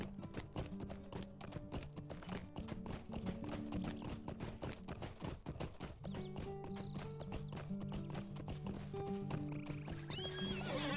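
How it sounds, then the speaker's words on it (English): Toy horse ride in the Lord of the Rings Online video game: steady hoof clip-clops and an occasional whinny run throughout over looping game music, fairly loud and continuous. "I'm riding a toy horse."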